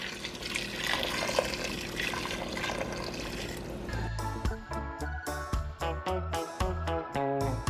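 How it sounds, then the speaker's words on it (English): Boiling water pours steadily into a pressure cooker pot of oxtail curry, a rushing splash that deepens into a gurgling, bubbling rumble as it fills, close by. "I'm going to add some boiling hot water."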